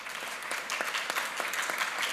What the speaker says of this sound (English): I'm asking you for a big applause for our wonderful speakers